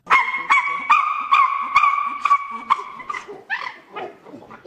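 A run of about a dozen high, tonal begging calls at a steady pace, loud and close, turning rougher and more grunting toward the end.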